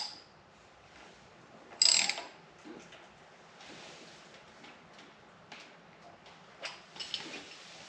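A ratchet turning the crankshaft of a Subaru Forester during a timing belt job gives faint, scattered mechanical clicks, with one louder clank early on, in a quiet workshop with no voices.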